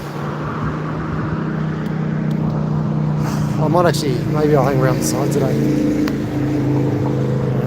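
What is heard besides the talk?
cars driving past on a street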